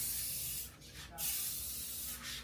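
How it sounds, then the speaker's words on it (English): Steady hissing of an aerosol spray can, sprayed in continuous bursts with brief pauses between them. "And right now, she's spraying paint everywhere."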